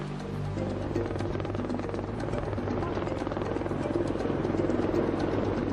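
A rescue helicopter in the Himalayas arriving for a medical evacuation: steady, loud rotor thudding and turbine roar that builds slightly and persists throughout without a break.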